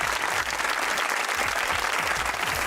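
Steady, dense audience applause at a studio talk show, many hands clapping together at an even level for nearly three seconds with no talk over it.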